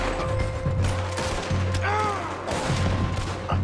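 Gunfire in Red Dead Redemption II during a battle alongside a cannon, with several sharp shots and a burst of fire cracking over a steady low rumble while voices call out between the blasts.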